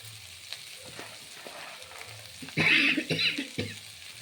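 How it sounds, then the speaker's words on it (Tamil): Sprouted green gram is dry-roasted and stirred in a pan, with soft scraping strokes that turn into louder bursts of crackling sizzle partway through, close up. "நல்லபடி வறுக்கணும் ஃப்ரெண்ட்ஸ் நல்லா இது இப்படி வறுத்துடணும்"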